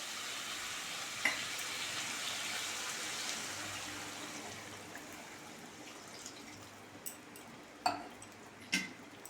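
Frying potato and soya chunks in a pan, cooked like meat, give a broad hiss and sizzle that fades as water is added, followed by a few sharp clicks of a spoon against the pan.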